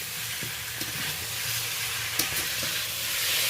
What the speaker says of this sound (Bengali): এই ভেজে রাখা সব সবজিগুলো আমি এবার দিয়ে দেবো। মশলার সাথে হালকা করে একটু নেড়ে নিচ্ছি।